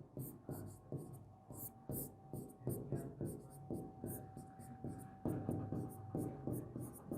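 Chalk or marker scratches out math on a board during a lesson on surface area and volume, in rapid, uneven strokes and taps that continue steadily with no voices.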